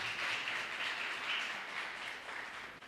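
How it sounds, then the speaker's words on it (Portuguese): Congregation at a church service applauding, a steady wash of many hands clapping together, moderately loud and continuous throughout with no speech over it. "Você pode aplaudir o Senhor?"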